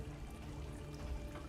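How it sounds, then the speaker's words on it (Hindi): Floodwater rushing and pouring in fast, a dense, steady roar of churning water heard close and loud throughout, with no talk over it, in a tense Bollywood action-film rescue scene as the level rises. "पानी तेजी से बढ़ रहा है"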